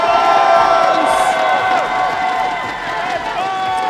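A crowd cheering and shouting for the winning team at the NA vs EU Heidel Ball 2026 Black Desert showdown, loud overlapping whoops and raised voices that ease slightly before swelling again.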